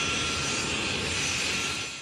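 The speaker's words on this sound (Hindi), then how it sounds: "शीर्ष तालिबानी नेता बरादर कतर की वायुसेना के विमान से दोहा से कंधार पहुंचा।" A Qatar Air Force military aircraft roars steadily and loudly, a continuous broadband engine rush that tapers slightly at the end.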